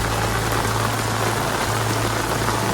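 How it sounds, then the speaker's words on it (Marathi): Heavy rain pours down steadily during boat net fishing at sea, a dense, even hiss that fills the whole clip with no pauses. "पाऊस जोरात आला मित्रांनो पूर्ण पूर होईल"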